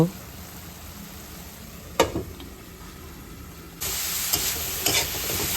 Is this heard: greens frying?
yes